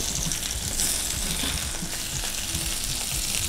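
Salmon pan-searing in a frying pan, a steady loud sizzle and crackle of fish in hot oil running continuously throughout, with no voices.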